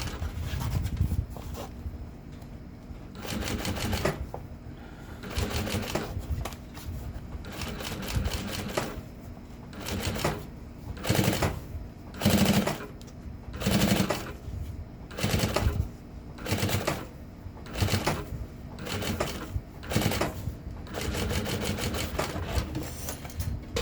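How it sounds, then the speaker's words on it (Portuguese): A sewing machine stitches a garment piece in repeated bursts of rapid mechanical chatter separated by short pauses. Each run stops and starts unevenly, and no one talks. "E eu vou fazer a costura"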